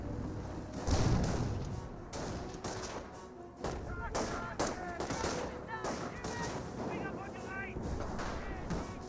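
Gunfire and explosive thumps from Company of Heroes 1 battle, a steady scatter of shots and blasts running under continuous commentary.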